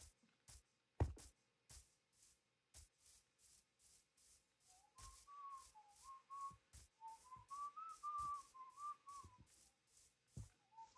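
A person whistles the Lost Forest theme from The Legend of Zelda, a clear wavering melody in short phrases over soft rubbing and shuffling sounds.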